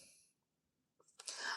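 A single sharp sneeze bursts out near the end after a short quiet pause, loud and close, with no talk.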